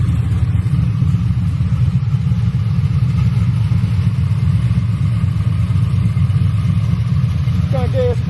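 An LS-swapped Chevrolet Cutlass sits running close by, its engine holding a loud, steady, deep idle rumble throughout with no pauses, while people talk over it.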